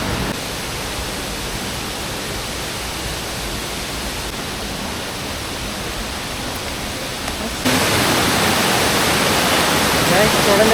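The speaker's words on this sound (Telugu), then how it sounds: "ఇంకా ఆ పైనుంచి అలా వాటర్లా స్టెప్లుగా వచ్చి ఓకే ఇలా వెళ్తుంది" The Alamanda waterfall, tumbling down in steps near Parvathipuram, makes a steady loud hiss of falling water that grows louder and brighter partway through, as if the listener has moved closer.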